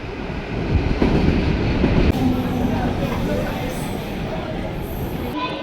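A local commuter train running from Bauria toward Uluberia, a steady loud rumble of wheels and carriages with a few harder clanks, heard from on board or close by, with people talking over it.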